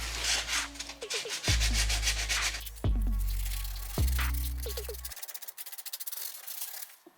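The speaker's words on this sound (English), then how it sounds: "you want to use some 100 grit sandpaper and rough up your painted surface" 100 grit sandpaper rubs back and forth over a painted surface in close, scratchy strokes, joined by several sharp tonal squeaks and knocks. The rasping rhythm speeds into quick short strokes near the end.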